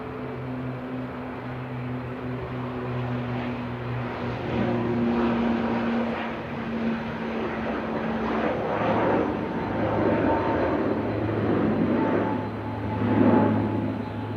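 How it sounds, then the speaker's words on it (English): A Loganair ATR 72-600 turboprop airliner departs Manchester Airport on a flight to the Isle of Man, a steady broadband engine roar with a low droning hum, building slightly louder toward the end, no talk over it. "Logan Air departing now. This is an ATR 72600 with flight 694 to the Isle of Man."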